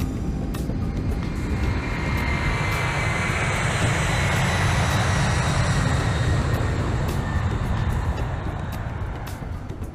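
An airliner takes off with a loud, continuous roar of jet engines that swells broadly and holds steady throughout, fairly close, with no voices.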